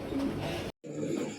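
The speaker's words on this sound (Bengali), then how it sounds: "এখানে একজোড়া কবুতর ব্রিডিং করছে" A breeding pair of pigeons on a pigeon farm coo softly up close in short repeated bursts, broken by a brief moment of silence.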